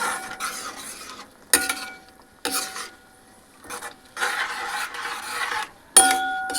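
Tamarind juice is poured into a sizzling chili spice paste for a brinjal cashew curry, then stirred with scraping strokes in bursts separated by brief quiet gaps, with sharp clanks and loud sizzling.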